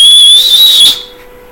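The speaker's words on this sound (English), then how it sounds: "Can you whistle?" A person whistles one loud, sustained high note close by that holds steady for about a second before cutting off, leaving only a faint hum.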